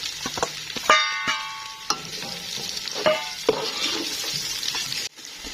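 Onions frying with garlic and ginger in a pan, a continuous close sizzle broken by a few spatula scrapes and clinks, with a brief dip in sound near the end.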